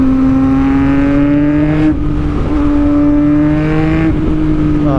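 A Yamaha MT-09 motorcycle engine revs loudly and close, a droning note rising in pitch and then briefly dropping twice before climbing again, with no talk over it.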